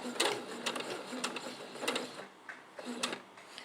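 A sewing machine stitches fabric for an easy summer dress in quick rhythmic bursts of mechanical needle chatter, pausing briefly between runs, fairly close and moderately loud.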